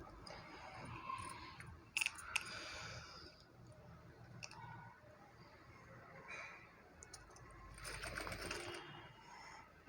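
A sewing machine runs a top stitch along a work blouse in short, quiet bursts of rapid needle chatter, broken by pauses with soft clicks and fabric handling close by.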